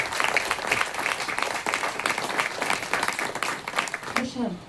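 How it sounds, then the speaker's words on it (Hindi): A church congregation claps loudly in worship, a busy wash of many hands that carries on steadily before breaking off near the end as a voice begins. "प्रभु जोरदार ताली बजाओ"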